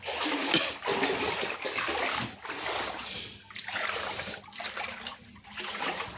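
Floodwater flowing inside a flooded house, a steady rushing wash of water with splashing surges that dip and return, loud and close, no talking.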